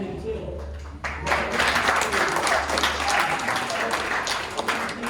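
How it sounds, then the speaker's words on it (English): Applause from a youth service audience at a camp meeting, a steady wash of clapping under someone speaking. "I was giving myself applause as I walked."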